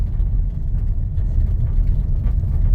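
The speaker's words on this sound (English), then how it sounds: "thought I'd do a little drive down a dirt road out in the country" A 2018 vehicle with a twin-turbo 3.5L EcoBoost engine driving down a dirt country road, a steady low engine and tire rumble heard from inside, close and continuous.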